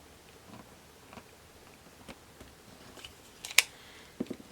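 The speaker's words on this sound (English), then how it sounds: "You're just going to trim off that bottom corner" Scissors snip off the bottom corner of a fabric quilt unit cut with a Kitty Cornered Ruler, giving a few soft, sparse clips and one sharper snip, close but quiet, with no talking.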